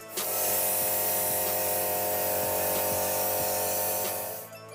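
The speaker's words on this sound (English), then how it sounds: "I want to apply some brown airbrush color on it to make it look more like wood" An airbrush sprays brown color steadily onto a cake board to give it a wood look, a continuous hiss with a faint motor hum running alone for several seconds before cutting off.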